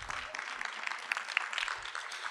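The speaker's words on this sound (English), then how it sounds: "Let's give her a round of applause" An audience claps for a presenter at an education technology talk, a brief, fairly faint spatter of applause heard from a distance.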